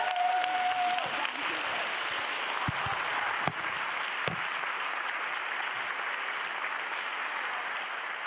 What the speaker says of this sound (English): So perhaps just a round of applause again for them.